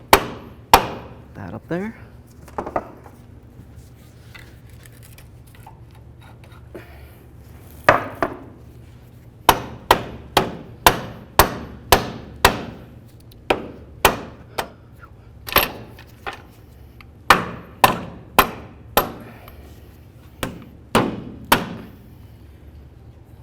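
Hammer blows on the front lower control arm of a 1998-2012 Ford Crown Victoria, sharp metallic strikes landing singly and in quick runs, loud and close, with a brief spoken remark early on.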